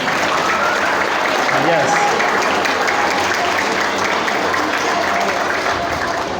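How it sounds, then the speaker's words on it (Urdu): Two groups of an audience at an annual result ceremony and religious celebration clap together in loud, dense, continuous applause, while a voice briefly speaks over it. "دونوں پارٹیاں بجائیں تالیاں"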